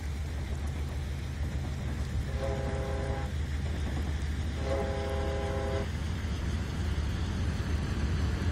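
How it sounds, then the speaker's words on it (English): A BNSF freight train led by an ES44DC locomotive rolls steadily through Stevens Pass in Train Simulator 2015, a constant loud rumble broken by two long horn blasts. "we're going to see the whole train go by"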